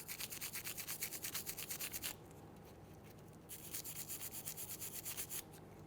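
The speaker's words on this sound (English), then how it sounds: "I'm going to use my bristle brush and I'm going to clean up our spring clips here." A bristle brush scrubs rusty brake spring clips from a Kia Sorento rear parking brake in quick, rhythmic back-and-forth strokes, close up, with a short pause midway before the scrubbing resumes.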